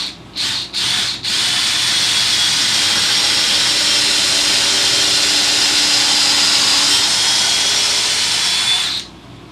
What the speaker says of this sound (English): Nail gun, that's what it's called.